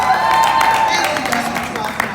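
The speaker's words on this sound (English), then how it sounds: "Thank you guys for clapping out" An audience claps together in a steady wash of applause, with a faint musical tone running underneath it throughout.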